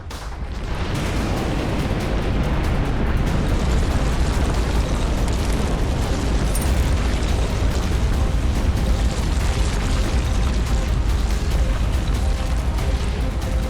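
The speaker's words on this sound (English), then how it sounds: "There's a major explosion." A massive, sustained roar of the 1980 Mount St. Helens volcanic eruption, a loud continuous rumbling blast with dense low-end energy that holds steady throughout.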